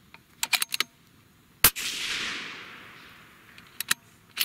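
A Savage 110 Light Varmint rifle in .308 Winchester fires a single loud shot of a V-Max bullet, a sharp crack followed by a long rolling echo, with a few faint clicks before and after.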